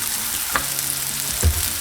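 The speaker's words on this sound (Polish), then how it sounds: "Wszystko lekko, szybko podsmażmy." Shrimp with garlic and chili pepper frying in oil in a pan for a tomato sauce, giving a steady close sizzle with a couple of brief louder crackles or stirring knocks.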